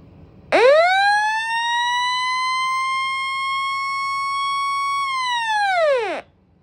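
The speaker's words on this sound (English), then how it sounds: "Has that old school siren sound to it." A loud, close weather radio alert siren winds up quickly, holds a steady wailing tone for several seconds, then winds down and stops.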